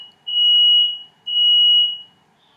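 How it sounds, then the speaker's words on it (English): A household smoke alarm with a low battery gives two loud, sustained high-pitched electronic beeps in a row, each lasting about a second, close by with no talk. "I got to change the battery on my fire alarm"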